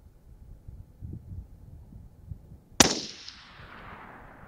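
A single sharp shot from a suppressed Savage 10 FCP-SR rifle in 6.5 Creedmoor cracks out of low background rumble and leaves a long fading tail, heard at a long-range shooting session.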